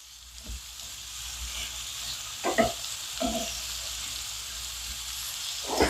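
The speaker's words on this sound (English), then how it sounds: "I'm just going to saute these in the oil and just let them get done a little bit" Peppers with a jalapeno sautéing in oil in a home kitchen for Cajun pepper steak, giving a soft steady sizzle broken by a few brief stirring scrapes.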